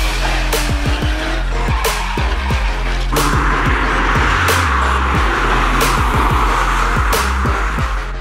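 Toyota GT86 lapping a race circuit: loud engine revs rising and falling through gear changes, with tire squeal and skidding through the corners, close and continuous.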